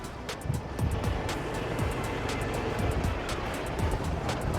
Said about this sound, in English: So many buses.